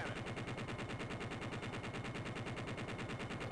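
Rapid continuous cannon fire from an Apache helicopter gun in Apache Longbow 2, a dense, unbroken burst of loud rhythmic shots lasting several seconds.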